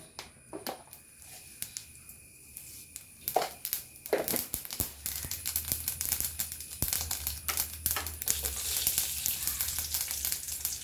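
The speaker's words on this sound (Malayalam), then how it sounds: "ആ കടുക് വറുത്താലോ" Sharp popping and crackling of mustard seeds frying in hot oil in a pan, starting sparse and building into a busy, continuous sizzle close by.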